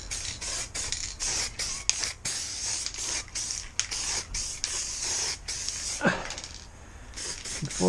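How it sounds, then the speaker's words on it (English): Black spray paint hissing from an aerosol can onto a Lamborghini Countach kit car in short and long close bursts, separated by brief gaps, with a few faint sounds between sprays. "Give him a spray."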